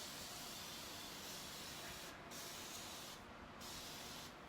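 A Flairosol spray bottle mists water onto curly hair in a steady, close hiss, with three short breaks where the spraying stops briefly before resuming.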